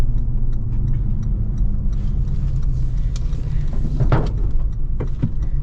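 A modified Lexus GX460 cruises along, filling the cabin with a loud, steady road and engine rumble, with a few light clicks and creaks over it and no one speaking.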